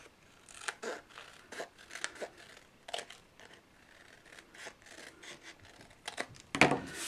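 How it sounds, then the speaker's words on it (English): Scissors cut curves through folded paper for a valentine card, producing soft, close snips and rustling paper at an uneven rhythm, about a dozen cuts, with a louder crisp crunch near the end. "you're going to use this as a pattern to cut out the curves at the top."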